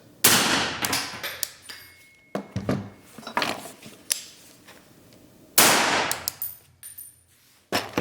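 Loud suppressed gunshots from a 12.5-inch .308 rifle fitted with a Huxwrx Ventum suppressor and adjustable gas system, fired outdoors at night: several sharp cracks with ringing tails, two especially strong blasts near the start and later.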